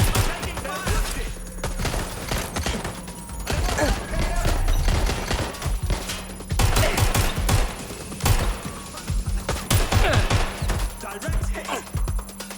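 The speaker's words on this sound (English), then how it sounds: "It's shooting! Taking cover! Taking fire!" Gunfire in the Watch Dogs Legion video game comes as loud rapid automatic bursts and fusillades that rattle repeatedly in a tense firefight, with a constant game hum underneath.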